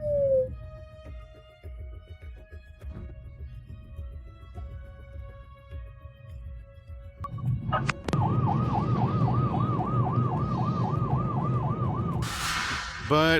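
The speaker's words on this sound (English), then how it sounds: "A huge traffic jam, an ambulance." An ambulance siren wails in a rising and falling pattern over rumbling traffic, starting faint and growing loud and close near the end.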